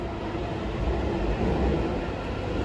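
Delhi metro train at Indraprastha station, a steady broadband rumble and rush of the train at moderate distance, continuous with no clear talk.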